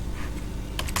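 Computer keyboard keys tapped close up while Python code is typed, a steady run of soft clicks with a brighter cluster of keystrokes near the end.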